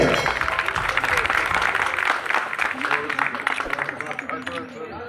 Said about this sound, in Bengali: জোরে একটা করতালি হবে